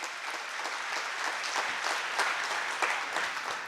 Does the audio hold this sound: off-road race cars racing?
no